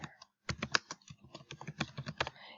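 Crisp keyboard typing up close, irregular bursts of key clicks after a brief pause, with no voices.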